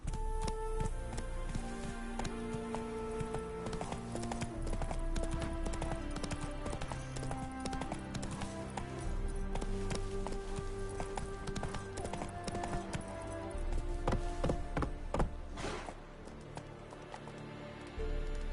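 A horse gallops in The Witcher 3, hooves clip-clopping in a steady quick rhythm under a bed of game music and ambience throughout, moderately close and fairly quiet.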